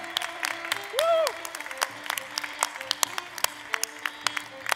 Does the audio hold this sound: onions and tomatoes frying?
no